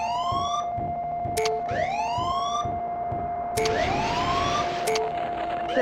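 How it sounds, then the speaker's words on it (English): In-game sirens from MechCommander: Desperate Measures sweep upward again and again over a constant tone and rhythmic mechanical thumps, loud and up front, with no voices. "We love sirens."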